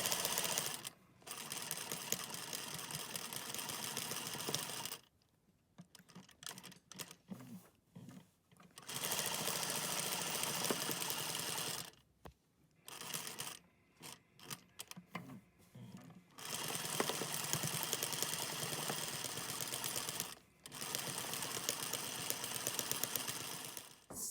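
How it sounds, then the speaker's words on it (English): A sewing machine stitches a half-inch seam around a fabric mask cover in fast, steady bursts of whirring needle action, loud and close, with short pauses between runs and no talking. "Now we're just working on stitching that 1/2 inch seam allowance all the way around the edge of your mask"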